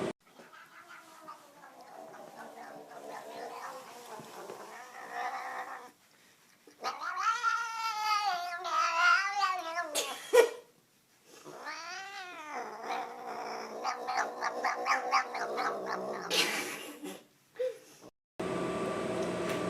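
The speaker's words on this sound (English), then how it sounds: "Another cat video in 3," A cat in a video being played back meows and caterwauls in long, wavering, drawn-out cries separated by short pauses, with faint room noise underneath.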